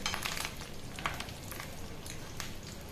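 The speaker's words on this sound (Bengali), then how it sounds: "এভাবে উল্টে পাল্টে এটাকে বেশ একটু লাল করে ভেজে নিতে হবে" Fish roe frying in hot oil, turned over as it browns, gives a steady, fairly loud hiss that runs the whole time, with a few sharper crackles and faint utensil taps.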